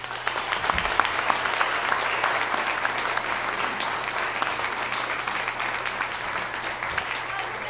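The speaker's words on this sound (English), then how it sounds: "Let's give a round of applause" A crowd at a startup pitch event claps steadily for several seconds, a dense, even wash of applause filling the room.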